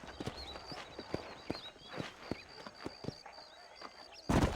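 Horse hooves clip-clopping at a steady walking pace in the Western video game Red Dead Redemption, a herd of horses near Armadillo, with faint bird calls in the background and a louder rustle at the end.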